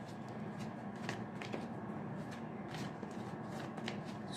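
Tarot cards are shuffled and drawn in a steady run of soft riffling and sharp card flicks, close and quiet, with small taps and slides throughout.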